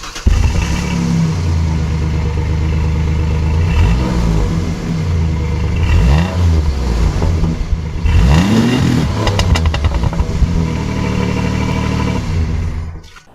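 A Nissan Rogue engine runs with the AC on during a compressor replacement, a loud steady drone that rises and falls through several revs before cutting off near the end, with no talking.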